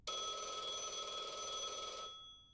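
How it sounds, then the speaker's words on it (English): A phone rings in the video game Blue Archive, a single steady electronic trill lasting about two seconds, clear and close, then cutting off into silence. "Oh, a phone call?"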